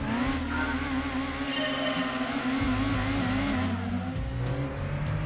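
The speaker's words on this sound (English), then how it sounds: "Oh, long gear changes." Race car engine in Gran Turismo 2 roars at high revs, with repeated rising pitch sweeps cut by quick gear changes, loud and continuous with no talking.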